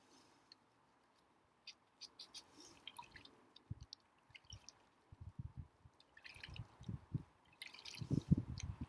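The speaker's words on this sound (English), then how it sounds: "Make sure you wash your hands with soap for at least 20 seconds with some clean water" Hands being washed with soap and clean water outdoors at a forest school campfire site, quiet wet splashing, dripping and squishing that grows busier and louder toward the end, close by with no talk.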